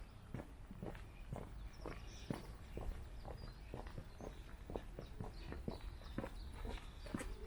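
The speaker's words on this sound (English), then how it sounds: "so you're going to hear footsteps from me and dedicated helper" Two people's footsteps on a quiet street in Kingston upon Thames, a close, steady rhythm of light shoe taps with no talking.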